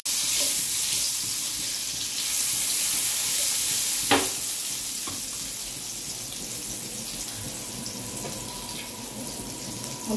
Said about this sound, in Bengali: আলুটা দিয়ে দিই, হালকা ভেজে নেব।